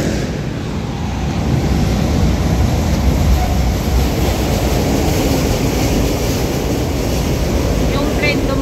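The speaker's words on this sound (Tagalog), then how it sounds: "Yung train dumaan." A train passes nearby as someone walks outdoors, its broad steady rumble and rushing noise holding at constant loudness throughout, with heavy wind buffeting the microphone and no clear talk.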